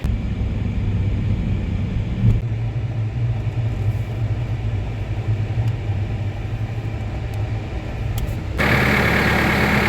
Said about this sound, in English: So while the tractor's warming up, I'm gonna go grab myself a coffee